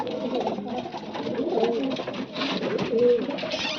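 Pigeons coo softly and continuously inside a loft, with a few clearer rolling calls standing out over a dense, murmuring background of other birds.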